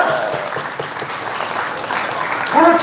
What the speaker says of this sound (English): can I get a big round of applause for Hawk over here?